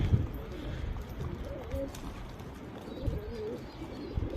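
Pigeons coo softly and repeatedly in a close, enclosed coop, with rustling and muffled movement around them.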